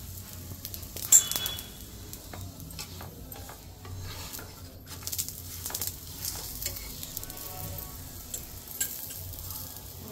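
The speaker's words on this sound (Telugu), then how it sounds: "మంచిగా 2 sides ఫ్రై చేసుకోవాలి ఆయిల్ వేసి." A chapati fries in oil on a hot pan and is pressed as it cooks, giving a soft steady sizzle. Scraping and rubbing strokes and a few sharp clicks cut in over it, with no talk.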